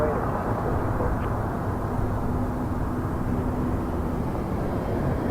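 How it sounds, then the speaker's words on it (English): A Gulfstream jet at Toronto Pearson airport: a broad, steady low engine roar with rushing noise, sustained at even loudness throughout, with a voice speaking over it. "I think it's a Gulfstream."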